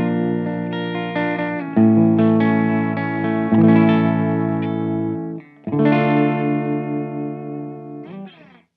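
An electric guitar played through a subtle crunch overdrive pedal, sustained chords ringing with light grit and a clean edge, a short break before another strummed chord, loud and alone.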